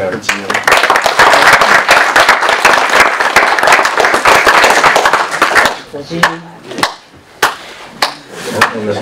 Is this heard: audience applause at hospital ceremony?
yes